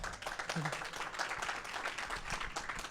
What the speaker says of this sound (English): Everybody give Scott a round of applause.